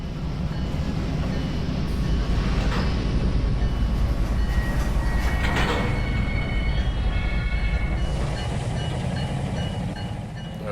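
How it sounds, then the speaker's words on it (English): A switcher locomotive rumbles steadily at low speed while moving railcars that clank and squeal, a continuous heavy drone with occasional metallic knocks close by. "A local switcher was finishing up with the final cars."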